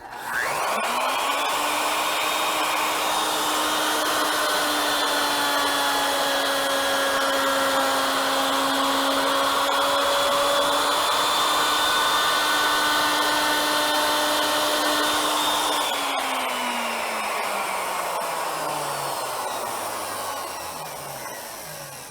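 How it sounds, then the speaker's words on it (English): A plunge router cuts stock on an ornamental mill, whining steadily at a constant pitch for about fifteen seconds before spinning down, loud and close with no talking. "So position the router at that point"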